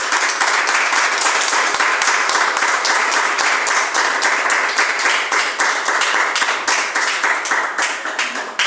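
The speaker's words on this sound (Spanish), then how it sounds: "¿Cuándo dan un fuerte aplauso al Señor?" A church congregation gives a loud, sustained round of applause for the Lord at a testimony service on freedom from addiction. Dense clapping holds steady throughout without a break.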